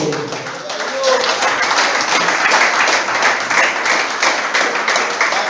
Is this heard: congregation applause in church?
yes